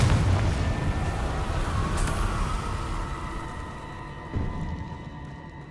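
The Confringo fire spell explodes in Hogwarts Legacy, starting with a loud booming blast that rumbles and fades over several seconds, then a smaller thud near the end under a lingering hum.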